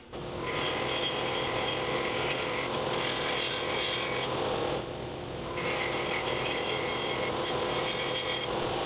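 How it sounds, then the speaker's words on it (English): A carbide square-tooth blade trimming the inside and outside of a laminate guitar rosette ring spinning in a chuck, a steady loud whirring cut with a high whine that drops out briefly and returns. "I'm using a carbide tooth, square tooth blade. And I'll be carefully going inside and outside to clean this up."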